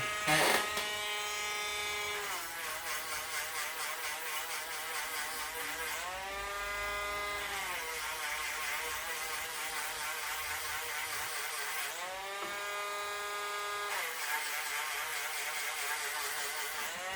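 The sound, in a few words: sanding a silver ring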